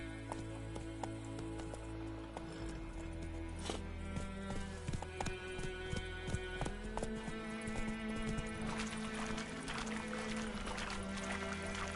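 Horse hooves gallop in The Witcher 3 on PS5, a quick, steady clip-clop close by with game music and ambience layered underneath.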